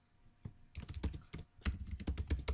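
Quick, irregular clatter of keys as code is typed on a computer keyboard, close and fairly quiet, with bursts of rapid keystrokes and brief pauses.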